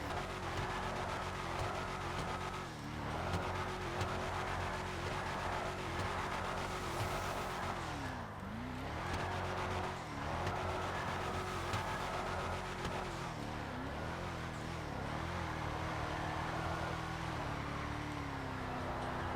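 A Lada car drifting in GTA 5 Online, its engine holding a steady drone in a single gear, dipping and rising in pitch as the throttle shifts through the slides.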